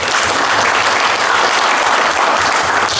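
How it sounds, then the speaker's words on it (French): An audience at a benefit evening applauds loudly and steadily, a dense continuous roar of many hands clapping close by, with no talk over it. "Est-ce qu'on peut applaudir pour DDI?"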